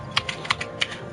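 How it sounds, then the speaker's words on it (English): Computer keyboard typing in the background during a game stream: a handful of light, irregular key clicks, close but soft, with no voice over them. "So, if you hear me typing in the background, that's because I'm getting stuff ready."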